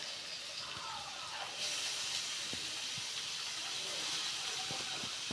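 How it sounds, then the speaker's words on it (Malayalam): Sliced onions dropped into hot oil for chapati noodles set off a steady, broad sizzle that swells slightly partway through, with faint clinks and stirring underneath. "ഇനി നമുക്ക് അരിഞ്ഞ സവാള ആദ്യം ഇട്ട് കൊടുക്കാം"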